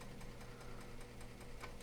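A Commodore 64 floppy disk drive runs steadily, giving a low continuous motor hum with a faint regular ticking pulse throughout, with no talk.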